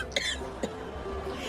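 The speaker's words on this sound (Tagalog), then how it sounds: "parang napapadalas na ata ang pag-ubo mo na yan ah" A person coughs twice in a quiet indoor room, short close coughs with a brief pause between them and faint background hiss.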